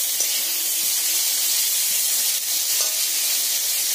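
Chopped tomato sautés with onions in a pan, giving a steady, close hiss of sizzling oil that runs unbroken throughout, with no clear stirring strokes standing out.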